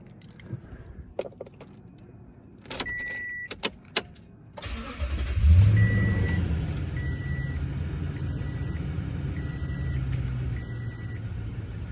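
A 2016 Toyota Tundra pickup with 87,000 miles: door and key clicks, chimes, then the engine cranks and catches with a rising surge before settling into a steady idle, with periodic dashboard beeps repeating over it.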